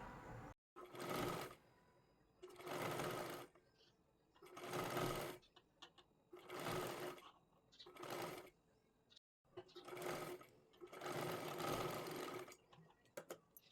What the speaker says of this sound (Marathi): सरळ लाईनीमध्ये आपल्याला टिप मारून घ्यायची आहे